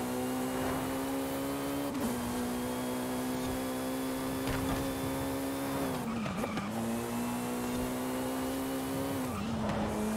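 Jaguar C-X75 race car in Forza Horizon 5 screams at high revs with a steady engine whine, dipping briefly around two cornering moments where tires squeal and skid, loud and close throughout.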